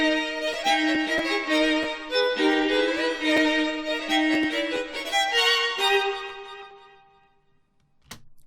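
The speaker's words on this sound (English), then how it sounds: "So strings sounds like this." Layered string section recordings drenched in reverb, sustained rich chords playing loud and full for several seconds before fading into a long echoing tail, followed by a short faint knock near the end.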